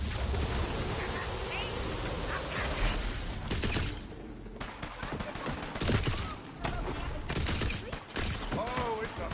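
Rapid bursts of gunfire in the looter-shooter video game Tiny Tina's Wonderlands, dense and loud, layered with game effects and a voice talking over the action.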